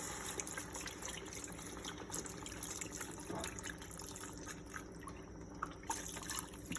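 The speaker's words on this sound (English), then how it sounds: "So this is about a cup of beef broth with the salt already in it. Just gonna add that to the mixture." Beef broth with salt poured from a container into an osso buco mixture, a steady soft liquid splash and trickle running throughout at low level, alone without talk.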